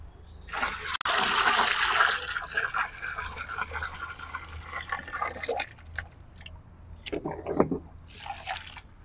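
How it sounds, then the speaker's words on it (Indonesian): A fertilizer mixture pours and splashes into a 200-litre drum of water, a loud rush of liquid at first, followed by lighter sloshing and spattering with intermittent knocks. "selanjutnya kita masukkan ke dalam media drum yaitu berisi air kira-kira 200 liter"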